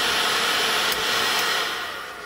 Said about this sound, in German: Ich denke, jetzt können wir das mit dem Föhn erstmal lassen.